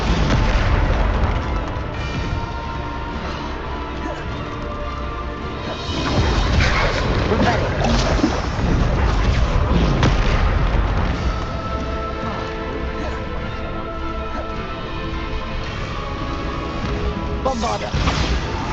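Booming spell blasts and crashing impacts from the Bombarda spell in Hogwarts Legacy, loud and dense over a continuous roar of game effects, with a voice talking over much of the fighting.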